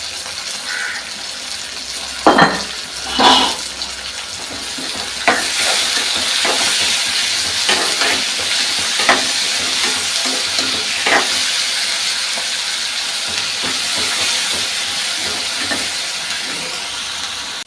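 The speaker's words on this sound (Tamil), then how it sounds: "தக்காளி, வெங்காயம், பச்சை மிளகாய் எல்லாமே பாதி வதங்கிச்சு பாருங்கள்" Tomato, onion and green chili sauté in a pan for chutney, a steady sizzle with intermittent spoon scrapes and clinks against the pan throughout, close and moderately loud with no voices.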